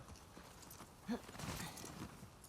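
Horse hooves clip-clop in the video game The Last of Us Part II, a quick, soft rhythm at a moderate distance, with a single louder thud partway through.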